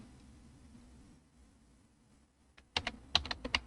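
Close computer keyboard typing while entering a value in a database query, a quick cluster of crisp clicking keystrokes after a quiet stretch.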